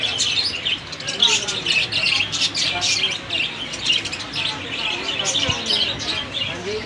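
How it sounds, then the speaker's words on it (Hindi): Caged budgies, pigeons and koels at a bird market keep up a busy mix of chirps and squawks throughout, while someone talks over the birds. "ये इसमें परिंदे रखे हुए माशाल्लाह आप देख सकते हैं बजीज, ये देखें। इसके अलावा ये कोकल और यहाँ पे कुछ कबूतर शबूतर रखे हुए हैं।"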